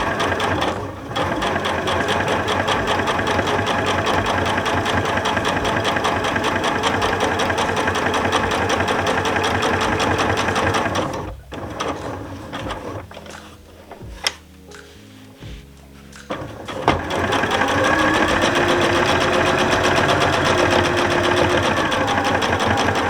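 A sewing machine stitches around an appliqué heart on a cushion cover, running steadily at an even pace, pausing briefly partway through for a few seconds, then resuming its continuous rapid whirr.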